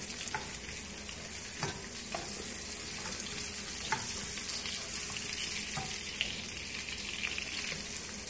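Salmon frying in a pan, with a steady close sizzle and scattered pops and crackles throughout, and no talking.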